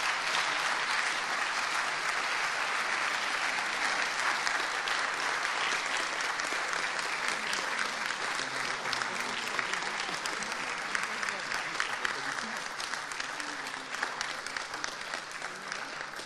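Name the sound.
audience applause for congress assistants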